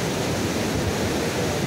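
Fast-flowing water of the Kalisindh River rushes near the Harishchandra Sagar Dam, a steady, dense roar of broadband noise heard close and unbroken, with no voices over it.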